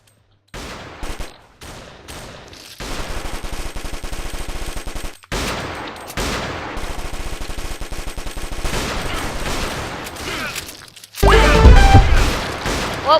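Rapid Uzi fire in the Zombie Grinder video game crackles in loud, dense bursts that run almost continuously, with short gaps between them and a heavier boom near the end.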